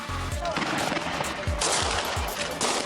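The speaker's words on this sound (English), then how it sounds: "Gunfire went on for 20-25 minutes." Several sharp gunshots ring out at irregular intervals over a dense, noisy background, loud and fairly close.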